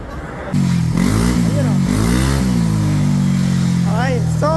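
Stock motorcycle on a center stand with a 2.1 GBT setup revved hard toward full throttle, a loud close engine roar climbing and holding in pitch with a few quick blips, while a voice talks over it.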